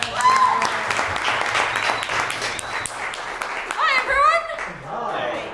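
Audience applause at an evening arts show, sustained clapping mixed with voices and cheers, with a burst of whooping near the end.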